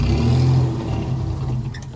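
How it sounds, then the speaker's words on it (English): An off-road vehicle engine revs steadily while crawling up rocks at Little Moab, Utah, a loud, sustained mid-pitched drone that swells early and then holds, with no talking. "try and drive right up here on these, and then back up and then come up this"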